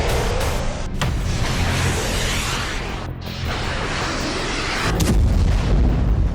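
A bomb attack in Luhansk produces a continuous heavy roar and rumble of explosions and blasts, loud and dense throughout with no talking.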